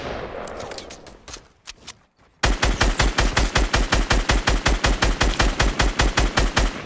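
Automatic gunfire in the Fortnite video game, a loud rapid burst of evenly spaced shots lasting several seconds after a couple of scattered earlier shots and a brief pause.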